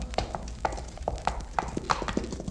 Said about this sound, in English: Listen, horses.